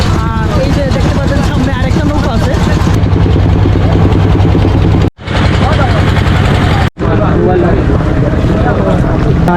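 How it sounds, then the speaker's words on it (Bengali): Boatman's rowboat crossing the river toward Bholaganj Sada Pathor in Sylhet, with strong, continuous wind buffeting and water rumble throughout, two brief dropouts, and faint voices in the background. "এই যে দেখবেন আমাদের মাঝি নৌকা"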